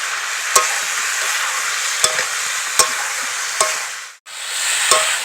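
Chopped eggplant with chili powder and spices stir-fried in a pan, a steady bright sizzle broken by several sharp scrapes of a spatula at irregular intervals, close and alone without talk.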